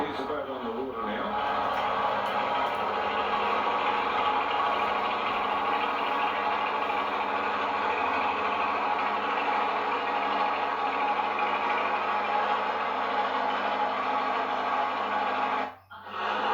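A restored Albin 021 marine engine in a motor launch drones steadily for a long stretch on the water, a constant mid-pitched hum that cuts out abruptly near the end.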